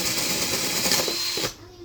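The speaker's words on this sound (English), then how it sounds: "And I'll leave you with a clean drill hole there." A power drill bores through a sheet of plywood with a steady, loud whirring grind that runs for over a second before cutting off abruptly.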